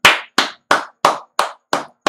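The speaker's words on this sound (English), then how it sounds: "I'm gonna clap somewhere here." Seven loud, crisp hand claps from a single person, evenly spaced about a third of a second apart with silence between, at a graduation ceremony for top CXC exam students.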